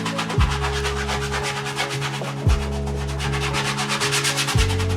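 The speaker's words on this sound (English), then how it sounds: "push it hard, rub it hard into the grain" Paint is rubbed hard into canvas grain with a brush, a loud, continuous scrubbing swept back and forth in regular strokes, close and alone.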